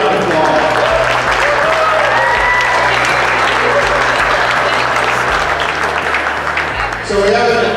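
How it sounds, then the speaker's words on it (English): An indoor audience at a Triumph Bonneville Bobber motorcycle release party claps warmly, dense sustained applause filling the room with some voices audible beneath it. "give Paul, Carol, Jolene, David a good round of applause."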